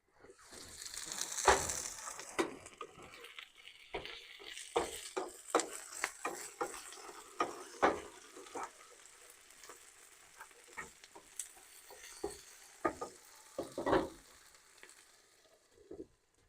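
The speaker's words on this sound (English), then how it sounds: "I went ahead and put the steak in there. It's cooking up pretty quick." Steak frying in a pan alongside potatoes at a campsite in an Arkansas national forest, giving a steady close sizzle with crackles, pops and the scrape of the food being stirred and moved across the pan.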